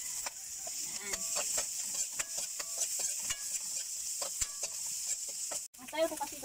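Sweet potato leaf stalks sizzling in hot cooking oil, a steady hiss with scattered pops and stirring clicks, close and moderately loud throughout.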